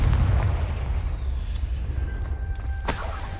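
A Confringo spell explosion in a Harry Potter video game: a heavy low boom rumbles from the start and decays, followed later by a short sharp crack, with no talking.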